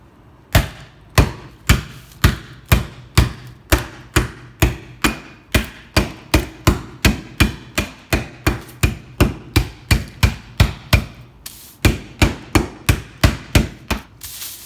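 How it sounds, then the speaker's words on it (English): A rolling pin pounds candy canes inside a Ziploc plastic bag on a kitchen counter, about thirty sharp, loud, close thumps and cracks in a steady rhythm, with no talking. "now I am gonna use a rolling pin to crush them up into little bitty pieces"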